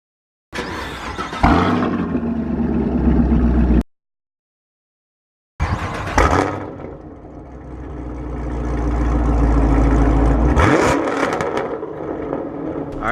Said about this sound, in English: my car is too loud